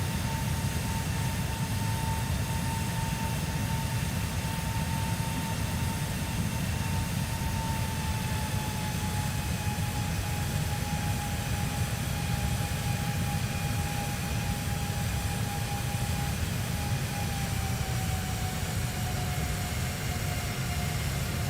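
A simulated airplane engine in Microsoft Flight Simulator 2020 drones steadily throughout on a flight from Fort Lauderdale to Miami, a constant hum with a faint tone sliding slowly lower, no voices.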